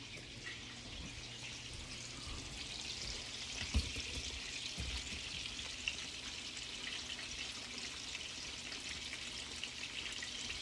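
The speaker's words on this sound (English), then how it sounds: "We are frying up the meatballs in olive oil" Steady sizzling and crackling of meatballs frying in hot olive oil, with a few soft clinks of a utensil.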